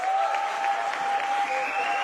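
An audience at a round table discussion on international alliances of popular and indigenous movements breaks into sustained applause, a dense, even patter of many hands clapping that carries at steady loudness throughout.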